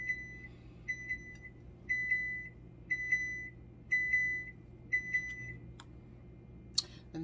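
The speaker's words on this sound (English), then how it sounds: "that's my oven going off" A kitchen oven timer beeps in repeated short pairs of tones at a steady rhythm, fairly clear over a low background hum, with a sharper click near the end.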